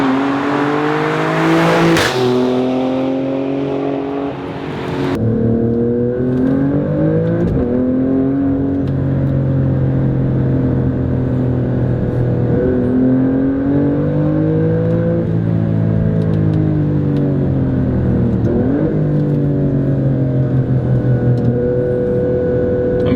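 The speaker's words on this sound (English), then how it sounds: "With the sound of the car, guys, it's fantastic." An Alfa Romeo Stelvio Quadrifoglio SUV engine revs hard and steadily, its pitch rising and falling through gear shifts in a raspy, continuous growl with a brief crackle near the start.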